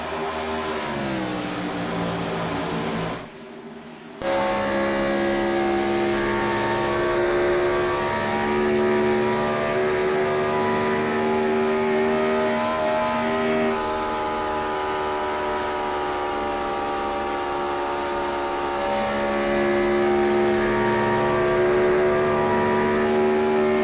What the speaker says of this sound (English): you listen to the engine sounds, at least on the fresh tires